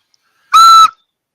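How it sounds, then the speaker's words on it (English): A single sharp whistle blast, loud and close, lasting about a third of a second after a moment of silence, with no talking. "because I've got a shut up Ashley whistle"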